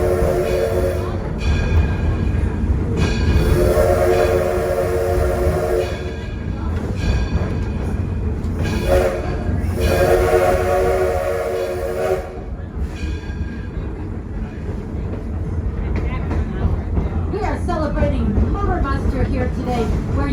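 A steam locomotive pulls a passenger train on an excursion ride, its wheels rumbling steadily while repeated whistle blasts sound over the running noise.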